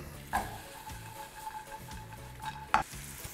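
Pastırma and walnuts sauté in olive oil in a small pan, a soft steady sizzle close by with a couple of sharp utensil clinks and scraping stirs, no talk.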